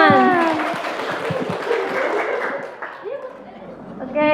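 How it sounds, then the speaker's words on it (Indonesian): Students at a short movie competition event clap for a team that has just been introduced. The applause is mixed with chatter, light laughter and a speaking voice, and it fades into talk. "Tepuk tangan"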